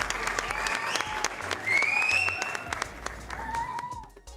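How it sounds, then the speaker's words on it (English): Moderate audience applause during a live painting session, clapping blended with crowd murmur and a few whoops, fading out toward the end. "do we have a round of applause for Devanda Studios?"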